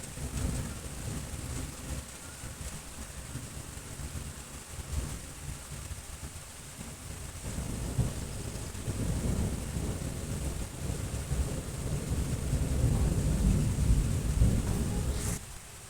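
A weak summer thunderstorm on 19 June, with steady rain and low rumbling thunder that swells toward the end, with some wind buffeting the microphone.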